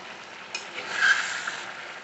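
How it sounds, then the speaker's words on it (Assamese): Broiler chicken meat frying in oil, a soft, steady sizzle that swells briefly in the middle, heard alone and fairly quiet. "এতিয়া মাটি দালি আঞ্জা ব্ৰইলাৰ মাংস ভাজি হৈ গ'ল"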